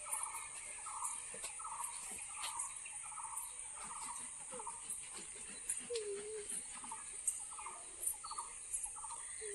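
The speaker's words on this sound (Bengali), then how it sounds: "সকালটাই থাকে আলাদা, একদম পাখিদের ডাক" Village birds call on a quiet rural morning among flowers and vegetable plots, giving evenly spaced, repeated calls at a distance, soft against low background hiss.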